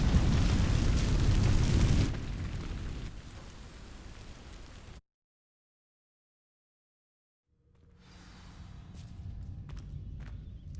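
A fire spell ignites dry vines in Hogwarts Legacy with a loud roaring, crackling burst of flame that fades into a softer burn, cuts to silence, then returns as faint scattered crackles and ambient noise.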